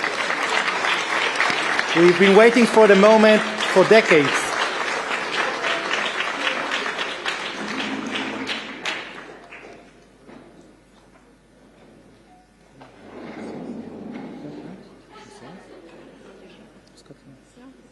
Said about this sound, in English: Let's give a big round of applause for this really historic event.